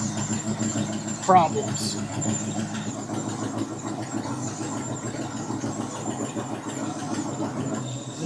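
A 1973 International Scout engine runs at a steady, rumbling idle throughout, with a brief squeal near the start and voices talking over the drone.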